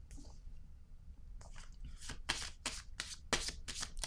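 Tarot cards being shuffled by hand, a run of crisp riffling bursts that starts faintly and grows into repeated close, papery flutters over a low background hum.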